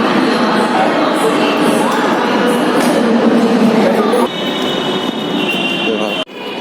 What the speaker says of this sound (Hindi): हम लोग मेट्रो स्टेशन एरिया में हैं